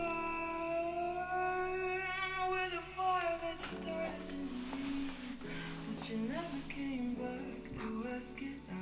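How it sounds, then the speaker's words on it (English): Chopped female vocal sample from a song with no instrumental, used in a trap beat: sustained sung notes with gliding pitch, then lower, choppier sung phrases, loud and continuous. "chopped it out of that song. It's the part with no instrumental or anything."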